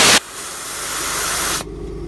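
Compressed air blasting out of a vehicle's onboard air compressor tank, a loud, close, steady hiss lasting about a second and a half before cutting off abruptly.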